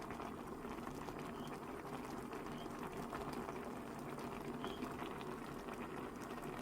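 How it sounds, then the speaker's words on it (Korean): Tteokbokki in spicy sauce simmers in a pot, bubbling steadily with soft, continuous popping and gurgling at close range, heard on its own without talk. "보글보글 우리 잠깐 소리 감상할까요?"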